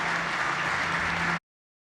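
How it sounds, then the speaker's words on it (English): A round of applause for Lieutenant Colonel Zhu at a cyber defense awards keynote. The clapping is dense and steady, then cuts off abruptly partway through. "Please, a round of applause for Lieutenant Colonel Zhu."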